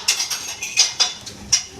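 A spoon scrapes and clinks against a bowl while ghee and ingredients are mixed together, making a quick series of sharp metallic ticks and soft scrapes, close and alone.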